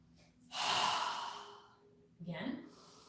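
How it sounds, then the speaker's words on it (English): A deep, strong exhale through an open mouth during a beginner yoga breathing exercise, a long breathy rush followed by a shorter second breath, close and alone. "inhaling through our nose and exhaling strongly with our mouth open"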